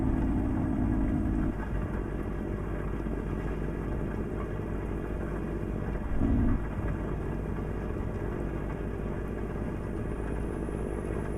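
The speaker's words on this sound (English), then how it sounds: "with the reshade in the rain and the thunder and lightning, it does look really, really good" Rain and thunder in Euro Truck Simulator 2 make a steady, dense roar over a low engine drone, with a brief deeper rumble partway through.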